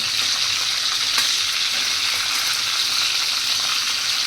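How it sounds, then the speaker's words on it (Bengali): Chicken pieces frying in hot oil in a frying pan for a chicken roast, a dense, even, close sizzle with light crackling throughout, no voices. "এখন একে একে চিকেনগুলো দিয়ে হালকা করে ভেজে নিতে হবে"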